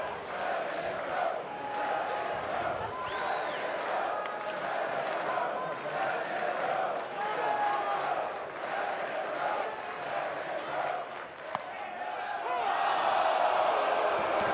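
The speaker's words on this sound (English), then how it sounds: "The crowd, they wanted to be yelling 12." A student section crowd at a college baseball game in a stadium yells and chants together, a dense roar of many voices that swells louder near the end, with scattered shouts and a brief sharp knock.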